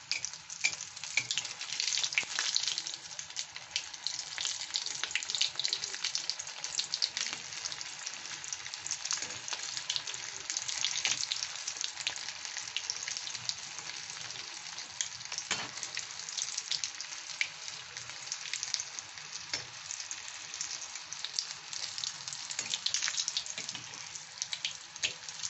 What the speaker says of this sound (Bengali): বলগুলো এখন লো টু মিডিয়াম হিটে ভেজে নেব।